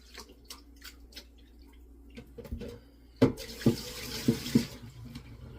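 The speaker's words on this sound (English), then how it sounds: "you rinse it off, you squeeze up the rice, you massage it a bit" Rice is rinsed and squeezed by hand in water in a home kitchen. Soft splashing and dripping come first, then louder sloshing squeezes near the end, brief and close, with no talk.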